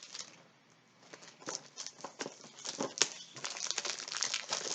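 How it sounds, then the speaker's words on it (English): Plastic wrap is peeled off a Shalimar perfume box in quiet, close crinkles and crackles, coming in irregular bursts that grow busier toward the end. "Get the plastic off of it here."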